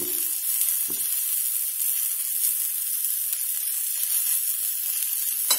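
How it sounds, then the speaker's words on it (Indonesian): Half-cooked grilled fish brushed with cooking oil sizzles with a steady, bright hiss throughout, near and continuous, with a couple of faint low knocks near the start and no talk. "Ikannya setengah matang saya olesi dengan minyak ya, minyak goreng."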